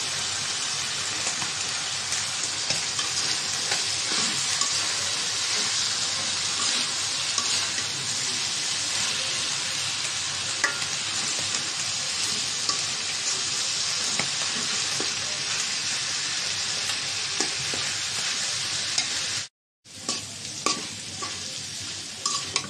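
Snake gourd, pumpkin and potato frying in a pan as a vegetable bhaji, a steady dense sizzle with faint stirring scrapes running close and continuous, then a brief drop to silence near the end before the sizzle resumes.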